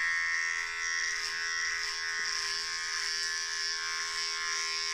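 Electric hair clipper running through hair on a head during a haircut, a steady close buzzing hum with a faint tugging crunch, continuous and unbroken throughout.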